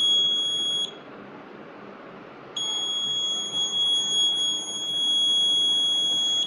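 A steady high-pitched electronic buzzer tone from a Raspberry Pi patient health monitoring system sounds, cuts out for under two seconds, then resumes continuously over a low background hum.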